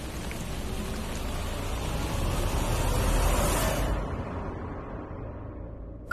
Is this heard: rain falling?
yes